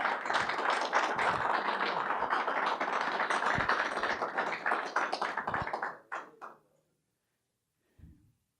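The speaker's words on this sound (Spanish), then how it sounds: "Denle una ovación de palmas al Señor por eso." A church congregation claps together for about six seconds in a dense burst of applause, which tapers off to a few last claps before falling silent.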